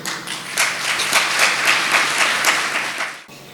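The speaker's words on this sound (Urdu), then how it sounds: "تالیاں اس وقت بجاؤ جب اس کو اپنا لو." A congregation claps during a Sunday Mass homily, a brief burst of fairly loud, dense applause from many hands that swells and then stops abruptly.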